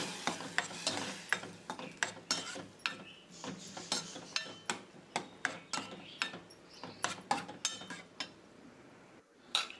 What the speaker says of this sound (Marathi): आता यामध्ये दोन ठेवलेली डाळ घाला डाळीला तेलामध्ये छान परतून घ्या